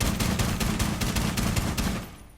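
Bearing 9 submachine gun in Rainbow Six Siege firing on full auto, a rapid sustained burst of closely spaced shots, loud and continuous for about two seconds before cutting off.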